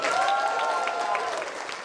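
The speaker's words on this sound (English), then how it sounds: "You're not clapping enough." A studio audience claps and cheers at a speech event, a dense, steady burst of applause that fades slightly, with crowd voices mixed in.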